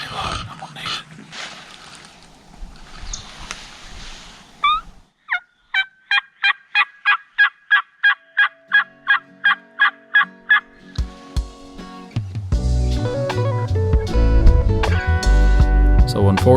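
Wild turkeys in Georgia gobble in a rapid rhythmic series of about a dozen loud calls, preceded by rustling and a turkey call note, then followed by louder outdoor noise.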